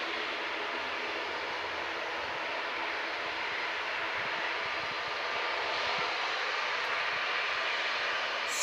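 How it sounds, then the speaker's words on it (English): Jet engines of a Qatar Airways Boeing 787 Dreamliner roar at Manchester Airport as a steady, broad rushing noise from some distance, swelling slightly near the end. "There's the Qatar Dreamliner."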